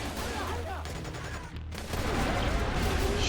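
Gunfire in the 2010 stealth game Splinter Cell: Conviction: a dense, loud fusillade of shots that runs almost continuously and grows heavier toward the end.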